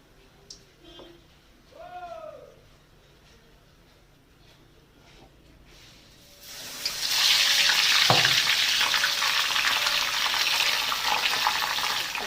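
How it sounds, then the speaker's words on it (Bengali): Helencha leaf fritters coated in rice flour and gram flour batter deep frying in a pan, a few faint clinks and a brief voice first, then a strong continuous bubbling sizzle rising about halfway and holding steady. "বেশি ভাজা যাচ্ছে না, একটা করেই ভাজতে হচ্ছে।"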